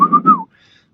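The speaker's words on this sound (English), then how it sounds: "kind of whistled there, sorry." A person whistles a short two-part tune, close and fairly loud, followed by a faint high trailing tone before silence.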